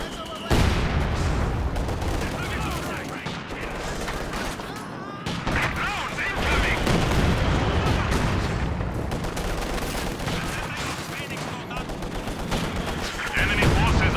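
Heavy mortar rounds and rapid small-arms gunfire in the Company of Heroes 2 strategy game, dense continuous bursts and booms filling the scene with brief dips, a voice talking faintly underneath at times.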